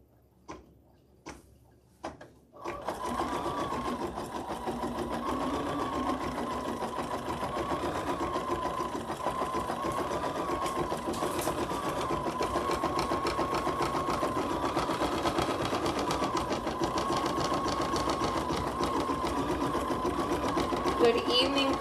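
Embroidery machine running steadily, stitching a satin border around a wooden piece for an in-the-hoop banner; a few soft knocks first, then continuous rapid mechanical stitching throughout, loud and close.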